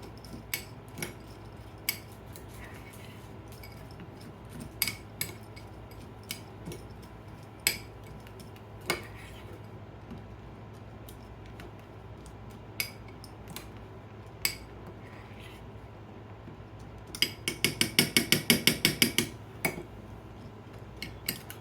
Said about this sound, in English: So I'm going to mix it up with the kibble.